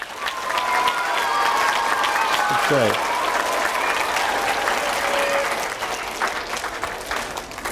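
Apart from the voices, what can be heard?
audience applause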